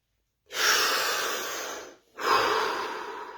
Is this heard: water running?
no